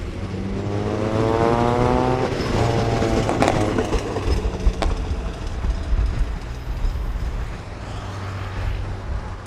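A train at the Bang Ramat railway halt in Taling Chan, Bangkok, rumbling past in the evening with a steady low roar, wheel clatter and some squealing tones, fairly close, then easing off toward the end.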